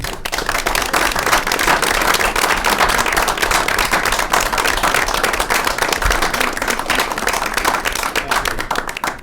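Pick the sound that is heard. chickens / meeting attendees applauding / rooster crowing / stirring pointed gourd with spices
meeting attendees applauding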